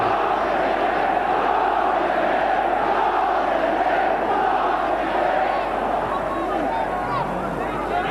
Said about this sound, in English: Crowd beginning to try to lift their team